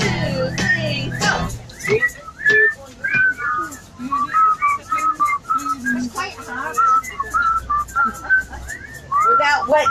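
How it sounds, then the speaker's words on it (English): A person whistles a slow, wavering melody at close range, after a burst of chatter and a short count-in, with faint voices in the background. "Let's hear your whistle."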